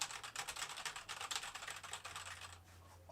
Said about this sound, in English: I'm just going to hit the keyboard.